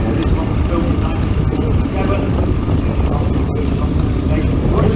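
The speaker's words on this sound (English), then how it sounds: "Ian Tandy's driving the John Deere" A 1947 John Deere tractor with a rebuilt engine runs steadily at a rally, a continuous low rumble under wind noise and background talk.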